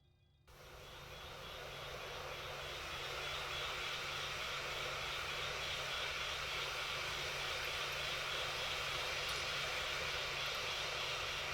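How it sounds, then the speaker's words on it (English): Left engine of a Boeing 737-600 spooling up in a flight simulator game: a whine and roar rise quickly from near silence, then hold as a steady, loud engine drone. "And turn on the left engine."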